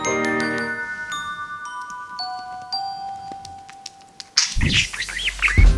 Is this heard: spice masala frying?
no